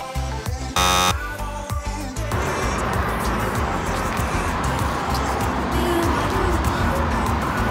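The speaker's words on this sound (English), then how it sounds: "So let's think about the buzzer." A short, harsh electronic buzzer blares once for about a second, then gives way to a steady background of traffic-like rumble.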